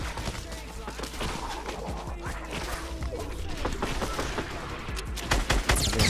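Gunfire in the Fortnite battle royale video game, with dense rapid bursts of shots and impacts running throughout under players' voices, getting louder toward the end.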